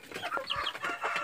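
Chickens and a rooster cluck and squawk close by in a busy, overlapping chorus of short, throaty calls, with no talking.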